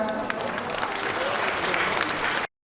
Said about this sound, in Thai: ขอเสียงปรบมือดังๆอีกครั้งหนึ่งครับ